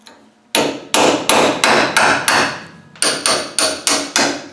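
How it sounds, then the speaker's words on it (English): Metal hammer striking a wedge driven under a snapped bolt flange, about eleven sharp, loud blows in steady rhythm after a brief pause, close up with no talk. "Just trying to wedge it off now."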